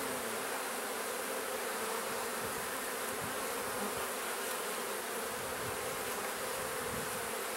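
A brood frame of honey bees gives off a dense, even drone, a constant close hum that never lets up, with no talking over it.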